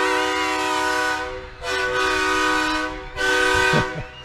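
Truck air horn blasting at a Christmas street parade: two long, loud, steady honks with a short break between them, close by and heard with no talk.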